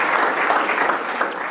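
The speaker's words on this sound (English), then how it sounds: "Let's give them all a round of applause." Brief burst of dense clapping from an audience at a school board business meeting, honoring school staff, loud and continuous with no talk over it.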